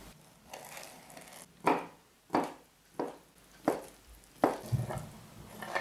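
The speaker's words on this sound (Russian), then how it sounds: "Половину сельди нарежу мелкими кубиками." A knife chops pickled herring into small cubes on a board, seven or eight sharp, distinct strikes spaced roughly every half second to second, close and clear with a quiet background and no talking.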